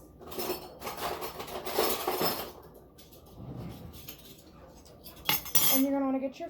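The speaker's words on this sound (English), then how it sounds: "Get 2 spoons." Metal spoons clink and rattle as they are taken out of a kitchen drawer, several bright jangling bursts close by, with a sharper clatter near the end.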